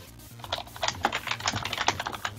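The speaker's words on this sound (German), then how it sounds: "da wird getippt" Rapid typing on a computer keyboard, a dense patter of close key clicks and taps with no talking over it.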